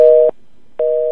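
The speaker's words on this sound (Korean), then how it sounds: "아마 전화 통화가 갑자기 끊긴 것 같습니다." A telephone busy tone sounds after a call is suddenly cut off, two loud steady beeps separated by a short silence, alone and close.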